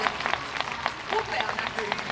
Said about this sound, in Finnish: annetaanpa isot aplodit